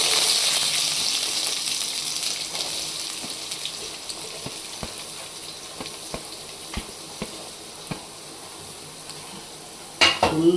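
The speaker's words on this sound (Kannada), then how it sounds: "ಈಗ ಈರುಳ್ಳಿ ಹಾಕೋಣ." Onions sizzle steadily in hot oil in a pan, with scattered light scraping and tapping strokes from a spoon stirring them, and a louder clatter near the end; no talking.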